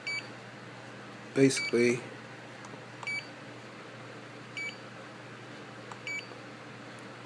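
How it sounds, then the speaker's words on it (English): Short electronic beeps repeat at regular intervals over a faint background hum, with someone briefly talking between them. "excuse the beeping."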